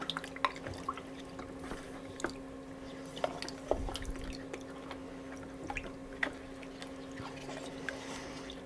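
A photographic print, an RA4 reversal print made from Ektachrome 120 film, being washed in a darkroom tray of water: irregular small sloshes, drips and wet squishes come close together at moderate volume.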